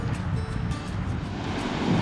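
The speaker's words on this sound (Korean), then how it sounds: "파도가 많이 치는 바다" Ocean surf breaking on a beach in Guam, a steady low wash of waves with wind rumbling close to the microphone, no talking.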